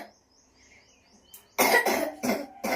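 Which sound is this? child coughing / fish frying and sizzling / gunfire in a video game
child coughing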